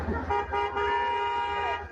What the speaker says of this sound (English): they're honking like they can do anything about it.